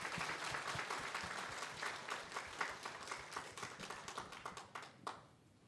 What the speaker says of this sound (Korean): 여러분 큰 박수로 환영해 주시길 바랍니다